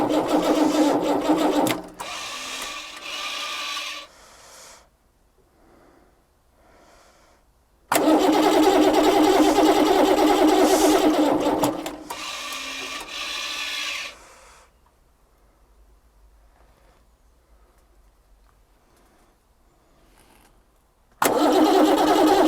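Abandoned Dodge truck, left 28 years in a French wood, with its engine cranking in loud bursts and then catching, separated by near-silent pauses.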